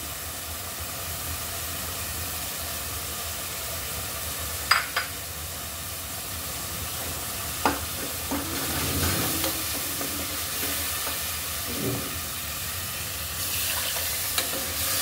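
Vegetable curry with potato, taro, dried ribbonfish and coriander frying in a pan, a steady soft sizzle broken by a few sharp scraping stirs of a spoon.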